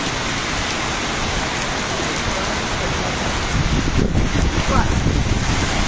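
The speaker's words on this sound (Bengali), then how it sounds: "এই যে এখনো তুফান চলতেছে।" Heavy rain and gusting wind of a violent storm in Brahmanbaria, a steady dense roar that swells louder toward the end, with a person's voice faintly audible beneath.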